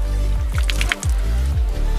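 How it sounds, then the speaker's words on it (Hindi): Water pours onto a shoe treated to be waterproof, making close, wet squishing and dripping sounds in a quick series of splashes with no talk. "अगर हम अभी भी इसके ऊपर पानी गिराए ये देखिए, ये देखिए इस पे पानी रुक ही नहीं रहा है"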